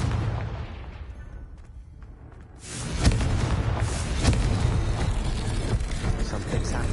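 Casting the Confringo spell in Hogwarts Legacy: after a quieter lull, a sudden heavy blast erupts and is followed by sustained rumbling crackle and scattered thuds, loud and near.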